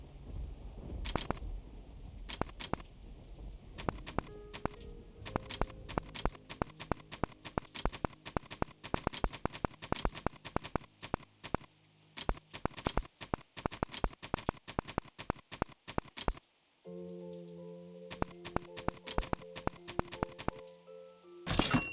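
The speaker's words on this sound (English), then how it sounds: "She's typing, this is dangerous." Fast keyboard typing in sharp clicky bursts, many rapid keystrokes with brief pauses, close and fairly quiet, with a faint tonal sound near the end.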